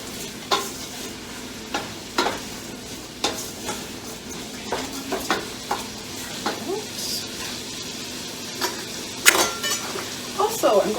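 Ginger and thyme go into a mulligatawny soup pot, followed by scattered stirring with clinks and scrapes against the pot over a faint sizzle, each stroke short and close.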